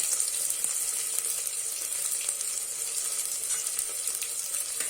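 Onion, crushed garlic and ginger fry together in a pan with cloves, producing a loud, continuous crackling hiss of hot oil with occasional light stirring, no voices.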